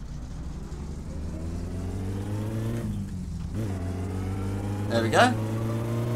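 A car in My Summer Car hums along at a steady, sensible speed, with a worn head gasket. Its low engine drone runs throughout, rising in pitch a little near the end, while someone talks over it.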